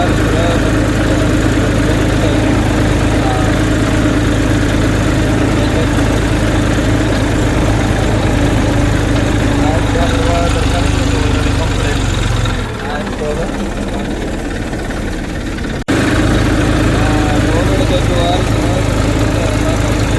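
A new tractor engine idles in a steady, loud low rumble for about twenty seconds, close by, with a brief dip in level near the end, while people talk over it.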